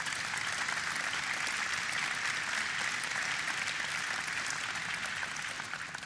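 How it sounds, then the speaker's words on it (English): A crowd at an outdoor Air Force base event applauds officials with dense, sustained clapping that holds steady and then begins to fade near the end. "Please give them a big round of applause."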